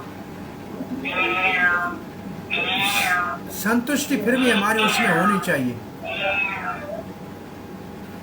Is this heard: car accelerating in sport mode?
no